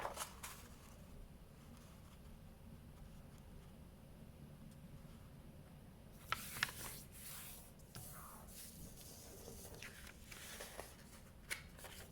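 A sheet of paper is folded in half, giving a few crisp crinkles and scraping rustles after a long quiet stretch, close and faint, with no talking.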